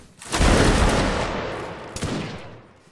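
Musket volley fired by a line of soldiers in a Napoleonic Wars battle game: a loud, dense crackling burst of many shots, then a second smaller volley about a second and a half later, rumbling off into the distance.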